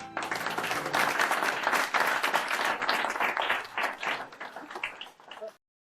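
An assembly audience at a civic awards ceremony claps loudly and continuously for about five and a half seconds, a dense even applause that then cuts off into silence.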